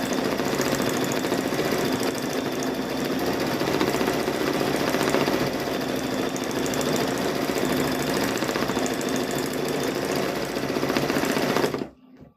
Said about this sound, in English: we're about done stitching this color